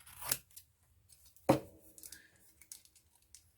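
Scissors snip the corners of a paper journal cover: a few crisp, separate cuts in a quiet room, two sharp snips followed by softer small clicks and rustles.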